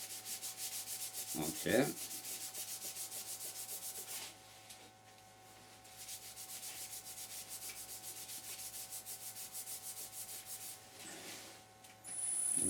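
A plain towel rubs resin onto a pine cone pan spinning on a lathe, giving a steady, close whirring friction broken by a brief louder scuff early on and a short pause midway; a voice speaks once, briefly.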